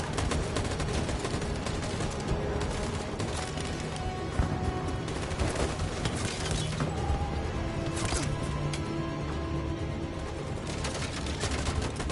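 Dense video-game gunfire from the game Detroit, sustained rapid shots and bursts layered into a loud continuous barrage with sharp cracks scattered throughout, no talk over it.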